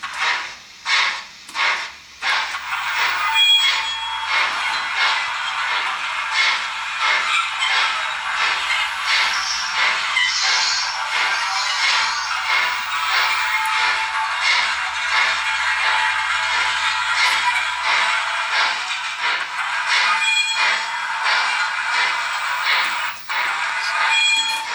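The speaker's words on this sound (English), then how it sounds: "you will hear the Westinghouse pump working hard to replenish the air pressure" A steady, rhythmic chuffing and hissing of a video game J15 locomotive's Westinghouse air pump, beating repeatedly at an even pace, loud and close with no talk.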